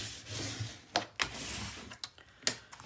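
Soft, faint rubbing as paper is burnished for a mini album page, with a few small ticking taps scattered through the quiet strokes.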